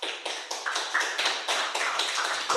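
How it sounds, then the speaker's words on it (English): An audience at a conference claps quickly, a dense run of short sharp hand claps that stays fairly steady, close-miked and without talking. "So again, applause to you guys,"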